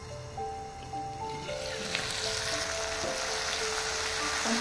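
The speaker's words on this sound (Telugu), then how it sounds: "దీన్ని ఒక 2 నిమిషాలు ఫ్రై అవనిద్దాం." Chopped onion and tomato sizzle in a pan for paneer pulao, a close, steady frying hiss that grows fuller and louder as it goes.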